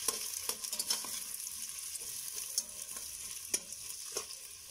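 Chopped onion fries in a pan for chipotle sausages, giving a soft, steady sizzle broken by occasional clicks and scrapes of stirring.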